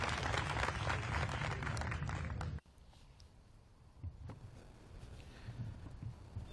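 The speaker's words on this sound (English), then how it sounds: "And the crowd erupts." A disc golf gallery bursts into loud cheering and applause after a short putt at a final-round women's tournament, the roar cutting off abruptly and giving way to faint outdoor murmur and scattered claps.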